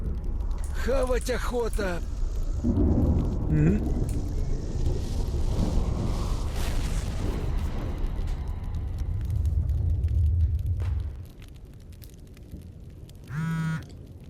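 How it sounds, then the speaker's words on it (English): A thunderstorm rolls through in the video game Escape From Pripyat, with heavy rain and deep rumbling thunder sustained for about eleven seconds before dropping away, loud and close, with someone talking over the start and end. "And that was the storm."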